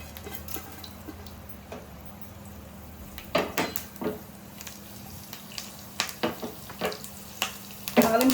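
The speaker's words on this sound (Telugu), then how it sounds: "ఇప్పుడైతే మనం తాలింపు వేసుకుందాము కొంచెం" Mustard seeds, cumin, urad dal and dried red chilies crackle and sizzle in hot oil, with a steady frying hiss and occasional clinks of a spoon against the pan.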